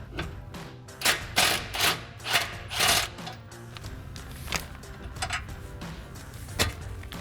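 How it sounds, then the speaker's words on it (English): A 16mm socket wrench loosening a bolt on the front bumper of a Jeep Gladiator, rapid ratcheting clicks in several bursts, loud at first and then lighter and more scattered. "So we'll take that 16mm socket to remove our first bolt"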